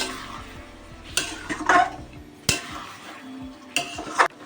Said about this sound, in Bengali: জাস্ট মাংসটাকে কিন্তু এভাবেই কষাবো, কোনো রকম জল দেওয়ার দরকার নেই।